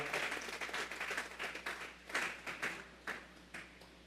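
Church congregation clapping together as an offering of applause, a dense, sustained patter of many hands with swelling bursts and a few sharper accents, close and fairly loud throughout.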